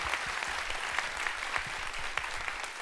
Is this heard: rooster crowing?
no